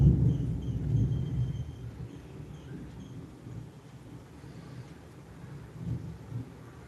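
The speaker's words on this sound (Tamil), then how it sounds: "மழை நசன்னு தூருது, அடிச்சுக்கிட்டு ஊற்றுது" Heavy rain pours steadily with a deep rumble of thunder, loudest at the start and then settling into a continuous low wash of downpour.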